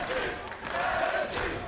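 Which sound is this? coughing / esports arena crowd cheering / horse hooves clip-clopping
esports arena crowd cheering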